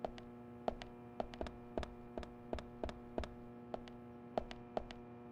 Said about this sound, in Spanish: Si solo hay sonido de estática de la luz.